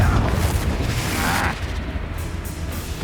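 A Confringo fire spell explodes in the Hogwarts Legacy game, a loud low boom that rumbles through the first half and then fades to a quieter roar, with a voice speaking over it.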